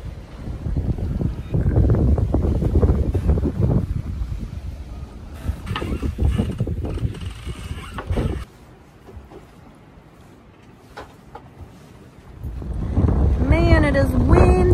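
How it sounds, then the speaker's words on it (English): Strong wind buffeting a microphone aboard a sailboat under sail with no engine, roaring gusts with water rushing, easing to a quieter lull before surging loud again. "Man, it is windy."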